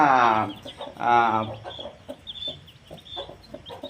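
Mother hens with newly hatched chicks cluck and call close by, a couple of loud drawn-out calls followed by softer scattered clucks.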